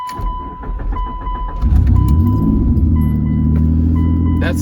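A 2003 Mitsubishi Eclipse GTS that had a cylinder misfire cranks briefly, then starts and settles into a loud, steady, rumbling idle, recorded up close.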